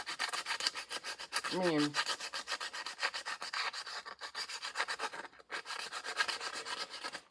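Sandpaper rubbed back and forth over a gouged metal part while repairing a Honda GX160 small engine, a steady close scratching rasp running throughout with a brief voice murmuring once early on.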